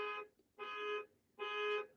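Three evenly spaced electronic beeps from a car alarm, each a steady tone with a pause between, somewhat distant and muffled outside.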